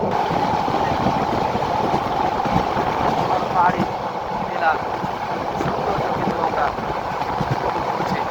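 Steady rumbling of a moving passenger train, a continuous loud roar with faint voices audible beneath it.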